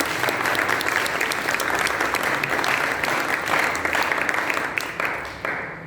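Sustained applause from a large audience at a Marathi and Hindi playwriting workshop in Mumbai, a dense even wash of many hands clapping that holds steady and then tapers off near the end.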